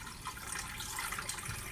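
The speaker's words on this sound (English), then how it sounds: "So I'm gonna pour some water in." Water poured into a shake container, a brief steady stream of splashing and trickling heard close up, with no voices.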